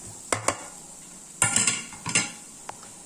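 Metal utensil clinks and scrapes against a pan as tomatoes go in with wilted onions for a cashew nut theeyal, several short sharp knocks in quick clusters with a faint low sizzle beneath, close up.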